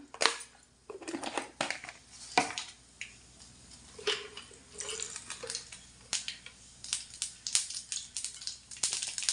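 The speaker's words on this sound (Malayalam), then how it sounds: "കടുക് പൊട്ടാൻ തുടങ്ങി" Sharp scattered pops and crackles of mustard seeds spluttering in hot coconut oil, irregular and fairly close, with no talking.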